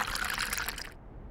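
A short, close liquid sound of water being drunk in a Nancy Drew adventure game trickles briefly for under a second and then cuts off abruptly.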